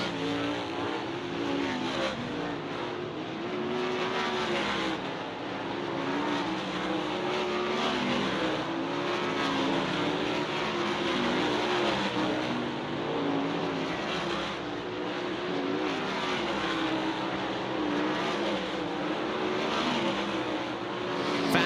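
Several dirt track race cars run a hot lap session at Grandview Speedway, their engines roaring steadily and loudly for the whole stretch with rising and falling revs as they pass, and no talk over them.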